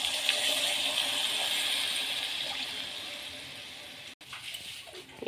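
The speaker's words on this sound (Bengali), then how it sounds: "জল দিয়ে দিচ্ছি" Water poured into a pan while cooking a hilsa fish curry with green chilli paste, a steady broad rushing pour that runs for about four seconds, then breaks off briefly before resuming, with no voices.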